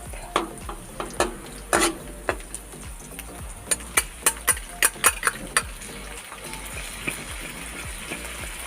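Garlic and corned beef frying in a pan, a light sizzle underneath a rapid run of sharp spatula clacks and scrapes against the pan that bunch together midway, then thin out.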